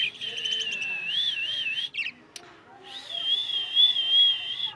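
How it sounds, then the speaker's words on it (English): Australian parrots in Timergara, Pakistan, give high warbling chirps and whistled calls, near and fairly loud, with a brief pause and a sharp click before the calling resumes. "lovely parrot, cute parrots, my sweet kids, babies."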